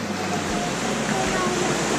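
Water runs steadily at a Boulder Ridge Villas resort, a loud, continuous broadband rush that fills the scene, with faint voices in the background.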